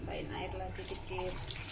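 Water poured into a pot of seasoned duck for pressure cooking, a short continuous splashing trickle under a person talking.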